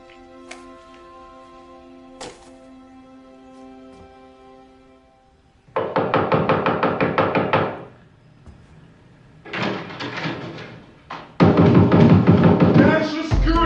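A door in a movie scene is pounded and broken down by government agents: bursts of heavy rapid banging come in three loud clusters after a quieter stretch with a sustained musical tone, each cluster a dense rattling barrage of impacts.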